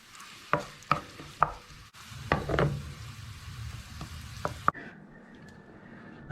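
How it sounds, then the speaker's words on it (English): Chopped scallion greens fry gently in oil for a Cantonese white cut chicken dipping sauce, a soft sizzle broken by sharp clinks and taps of a utensil against the pan, which quiet down near the end. "We're just going to gently fry that in that oil"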